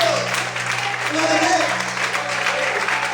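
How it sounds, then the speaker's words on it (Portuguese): Church congregation clapping loudly and steadily throughout, a dense wash of palms under a sustained hum, with voices mixed in. "Quando está me aplaudindo, bem forte as palmas para o Senhor"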